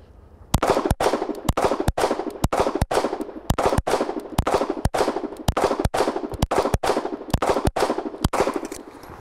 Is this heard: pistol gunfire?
yes